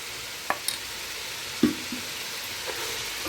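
Chicken browning in a pan with garlic-ginger paste: a steady soft sizzle, with a few scraping stir strokes and light clacks of a spoon, close and alone.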